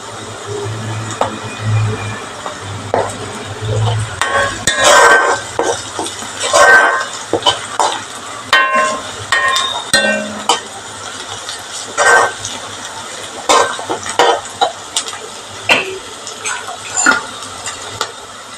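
Beef pieces are sautéed and stirred in a pan for a Kerala-style beef roast, giving a steady close sizzle broken by scraping spoon strokes and occasional clinks against the pan.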